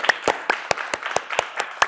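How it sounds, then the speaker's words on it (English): Audience clapping to welcome two guests onto a stage; about nine distinct, fairly close claps in an even rhythm, sounding like a small group rather than a large crowd. "So please give a huge round of applause"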